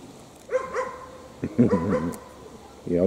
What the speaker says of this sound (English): Silly dog.